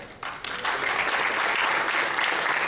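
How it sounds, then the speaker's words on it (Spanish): An audience applauds speakers at a forum. The sound starts quietly and swells within half a second into sustained, even clapping from a sizable crowd. "un gran aplauso a los ponentes de este foro"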